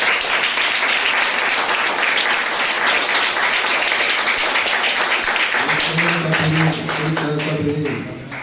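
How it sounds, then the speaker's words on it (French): A church congregation at an evangelistic gathering applauds loudly and steadily for several seconds, a dense wash of clapping that carries on as a voice rises over it near the end and the clapping begins to thin. "Applaudissez pour le Seigneur."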